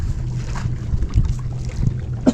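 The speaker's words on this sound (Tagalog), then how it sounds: "Parang may nadagungdong na malakas na hangin eh." Strong gusty wind buffets a small boat on the water, a low rumbling roar with irregular bursts close to the microphone.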